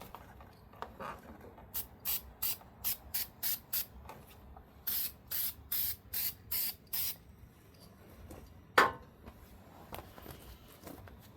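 Short hissing bursts of aerosol spray, about a dozen in a steady rhythm, lay a coat onto a cracked tire swing arm up close, followed by a lone louder clack.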